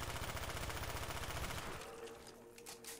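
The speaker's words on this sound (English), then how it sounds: "So let's grab these points and shoot them." Rapid automatic gunfire rattles continuously while shooting zombies in a wall-gun-only video game round, then cuts off into quieter game ambience with faint tones.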